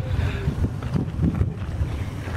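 Outdoor wind rushing and buffeting across the microphone in a steady, rough roar, with low rumbling gusts throughout and no speech.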